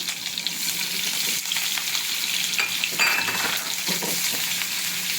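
Potatoes sizzle gently in oil in a pan over low gas with green chillies for sabudana khichdi, a steady soft crackle with occasional scraping stirs, close and without talk.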